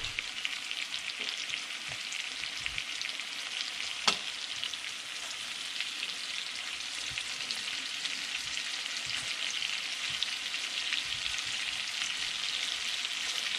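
Red snapper fries in a pan with a steady, moderately quiet sizzle and crackle, with a faint tap or two against the pan and no talking.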